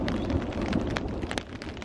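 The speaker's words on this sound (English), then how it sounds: "listening to the rain" Steady rain falls through an Australian forest during a thunderstorm, a dense, continuous hiss of drops on leaves and ground with occasional louder splatters, close and even throughout.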